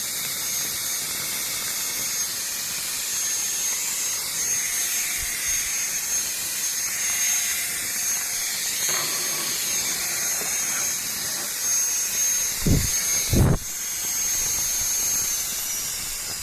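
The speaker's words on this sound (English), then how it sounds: "I can indeed confirm it's a very powerful fan" A small but very powerful electric fan spins at high speed, giving a steady, loud whooshing hiss that continues throughout, with a couple of brief low thumps near the end.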